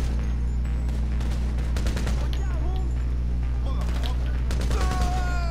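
Gunfire rattles in the video game Grand Theft Auto V online, several bursts and single shots over a loud, constant game background, with a voice talking over the action.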